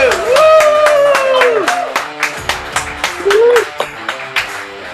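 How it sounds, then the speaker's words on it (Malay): Audience clapping at a group leaders' corner event hosted on camera, starting as a dense burst under a voice, then settling into separate, evenly spaced claps. "Bagi tepuk tangan sikit. Buka kamera, tepuk tangan."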